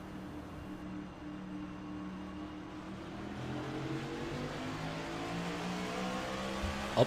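Race cars on an oval at Las Vegas accelerating hard through the gears at a restart, a dense, steady engine roar that climbs in pitch over several seconds with no voices.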